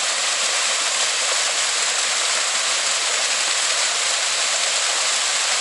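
A waterfall spilling into a pool roars steadily and loudly, a dense unbroken rush of falling water with no talking.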